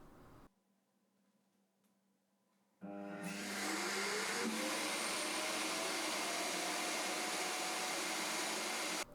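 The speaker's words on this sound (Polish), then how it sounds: "Jeszcze większy hałas generuje natomiast stacja w trakcie opróżniania pojemnika na brud." A loud, steady roaring suction starts abruptly after a quieter hum and holds, a whining rising tone briefly sweeping up inside it, as an iRobot Roomba Combo 10 Max dock empties the robot's dustbin.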